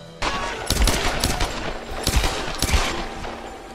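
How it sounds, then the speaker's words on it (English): Heavy bursts of rapid automatic gunfire from a video game, dense overlapping shots rattling loudly and continuously at close range with sharp individual cracks. "Oh, what a shooting!"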